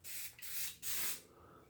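Three short hissing bursts of a spray bottle misting onto wood for sublimation, each about a third of a second, close and fairly loud with brief gaps between.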